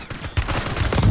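Rapid bursts of gunfire in a sniping video game, a dense string of sharp shots fired at a building, loud and close with a short lull before the volley resumes.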